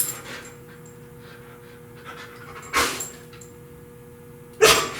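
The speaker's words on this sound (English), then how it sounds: "I waited until he was finished with his barking growl there" A poodle confined in a crate pants rapidly with whimpering breaths, broken by two sharp close barks, one midway and one near the end, with no human voice.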